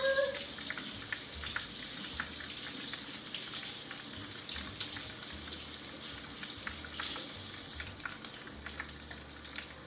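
Shrimp fry in a pan with a faint, steady sizzle and crackle, a soft constant hiss heard alone with light kitchen noise.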